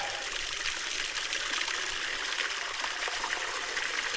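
Water trickles through a Katadyn BE filter into a bottle outdoors. The flow is a steady, close, watery stream with no breaks and no talking.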